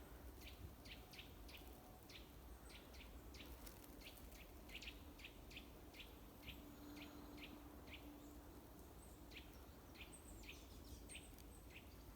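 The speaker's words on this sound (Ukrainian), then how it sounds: "Ви чуєте, як співають пташки." Birds chirp in a forest in quick, repeated short notes over a steady outdoor hum, faint and somewhat distant, with a continuous insect-like background.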